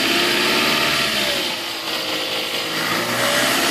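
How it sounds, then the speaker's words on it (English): A hybrid car's engine revs just after a jump start from a portable battery pack. A steady, loud mechanical whir with a slight dip in the middle fills the clip, with no talk. "I don't know what revving a hybrid is going to do."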